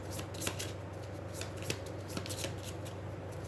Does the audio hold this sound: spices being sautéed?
no